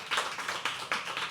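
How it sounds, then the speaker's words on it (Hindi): Scattered clapping from a small audience at a live poetry open mic at The Habitat, five or six separate close claps in an uneven rhythm. "एक बार यहाँ से तालियां आने चाहिए हमारी सैन्य बल के लिए, हमारे सोल्जर्स के लिए"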